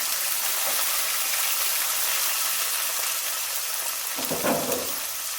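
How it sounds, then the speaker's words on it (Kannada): Chopped onion and green chillies fry in hot oil, giving a steady, loud, close sizzle throughout, with a brief stirring scrape near the end and no voices. "ಈರುಳ್ಳಿನ ಹಾಕ್ಕೊಂಡ್ಮೇಲೆ ಒಂದು ಸ್ವಲ್ಪ ಫ್ರೈ ಮಾಡ್ಕೊಳ್ಳಿ"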